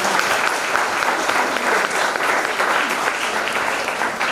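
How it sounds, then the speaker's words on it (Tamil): Loud, steady audience applause at a birthday commemoration ceremony and memorial lecture, a continuous close wash of many hands clapping with no talk over it. "இவர்கள் இருவருக்கும் மிக பலத்த கரகோஷத்தை நன்றி"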